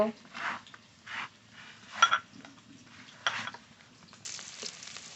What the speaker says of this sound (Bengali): পেঁয়াজটা একটু ভাজা ভাজা করে নিয়েছি